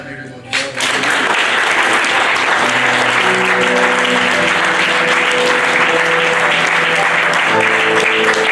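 A church congregation breaks into loud, sustained applause after a brief opening, with cheering voices and sung tones rising within the clapping throughout.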